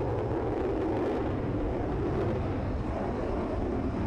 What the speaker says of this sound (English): The F-16's display shows off its amazing transient performance, with its ability to change maneuvers while pulling G.